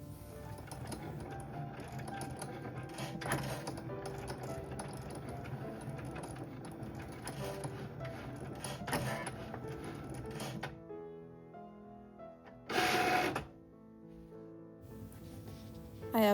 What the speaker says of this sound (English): I'm just gonna print out some final touches on my Cricut.